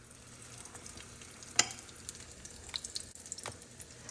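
Eggplant fritters (beguni) fry in hot oil with a steady close sizzle, punctuated by a few sharp clicks and scrapes of stirring, with no voices.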